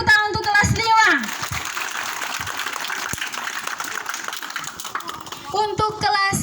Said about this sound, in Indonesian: Beri tepuk tangan untuk kelas 5.